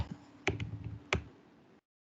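Keys tapping on a computer keyboard while a table is typed into Power BI, a few sharp, close clicks spaced irregularly over soft background, quiet overall and with no talk.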